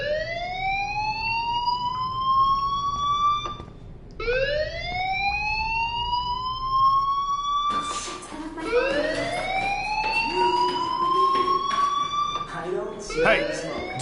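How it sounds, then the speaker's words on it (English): Fire alarm in the Life is Strange video game wails in repeated rising sweeps, each glide climbing and then cutting off before starting again, loud and continuous with some background clatter toward the end. "Hey, do you hear that fire alarm?"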